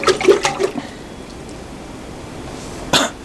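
Water is spun by hand in a container to form a tornado-like funnel. A cluster of sloshing swirls opens the sound, then near silence follows, then one more short swish near the end.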